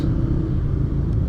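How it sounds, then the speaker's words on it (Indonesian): Congested traffic in Parung town, with cars and motorcycles idling and creeping, forms a dense, continuous low rumble of engines close by, with no voices. "masih di kota Parung ini yang penuh kemacetan ini"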